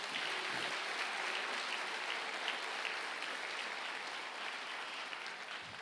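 A church congregation applauds for Jesus during a service, a dense, steady wash of clapping from many hands, even and sustained for several seconds at moderate distance.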